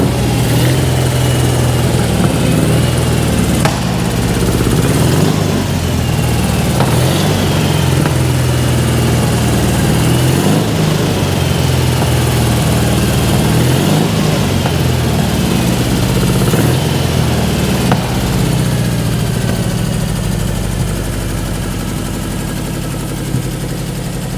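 A 1984 AME Porsche 550 Spyder replica engine, fed from a fuel can, runs steadily throughout with a loud, continuous low rumble and slight rhythmic unevenness, close by.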